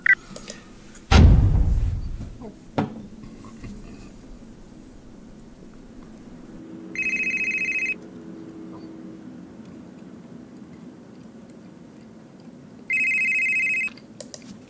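In the horror game Midnight Prowl, a heavy thud and a softer knock come first, then a telephone rings in two separate electronic trills several seconds apart, each about a second long, clear over a low ambient hum.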